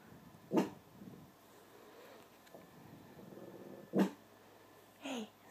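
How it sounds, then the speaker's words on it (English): A dog indoors gives two sharp, separate barks a few seconds apart over quiet room noise, with a fainter yelp at the end. "What are you barking at?"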